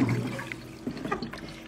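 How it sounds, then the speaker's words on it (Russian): Tap water runs steadily into a container indoors, a close, rushing and trickling stream that fills the whole moment with no talk over it. "Так, ребят, сейчас я воду наберу."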